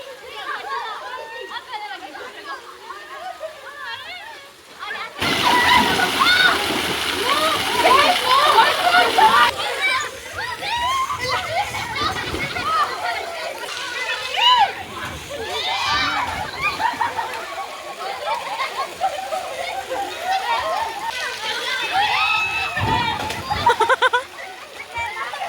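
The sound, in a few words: splashing in pool water as a child is dunked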